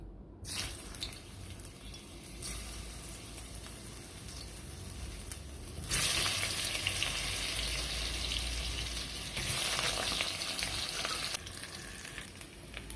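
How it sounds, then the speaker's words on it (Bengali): Potatoes frying in hot mustard oil, a steady sizzle that swells louder partway through as more pieces drop in, close and continuous. "তেলটা গরম হয়ে গেছে আমি এবার আলুগুলোকে একে একে ছেড়ে দিচ্ছি"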